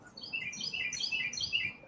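Loud birds chirp nearby in a quick, bright burst of repeated high tweets that lasts under two seconds.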